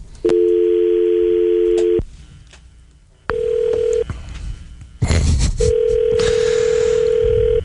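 A steady telephone dial tone sounds in three separate bursts with short gaps between them, loud and close, with no voices.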